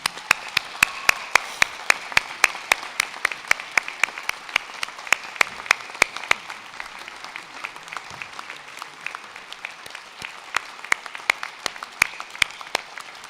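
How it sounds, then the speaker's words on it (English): Graduation audience at a Salford arts, media and creative technology ceremony applauding steadily, a dense wash of many hands with sharp individual claps standing out, sustained throughout at moderate loudness. "please give a round of applause for all those people here and elsewhere who've helped, inspired, and encouraged you throughout your journey"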